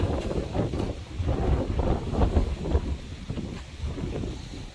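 Strong wind gusts buffet the microphone at a beach house construction site, a steady low roar with rumbling surges and no clear voices.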